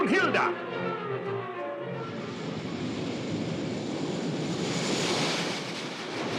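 Broad ocean surf rushes steadily and loud beneath a brief opening voice in a radio drama, waves swelling and holding near a small remote island with no break.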